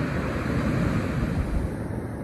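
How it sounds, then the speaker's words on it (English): Surf at Trimmingham beach in Norfolk rolls in as white water breaks along the shore, a loud, broad roaring wash with wind buffeting the microphone, continuous and close with no voices. "there is quite a lot of white water there."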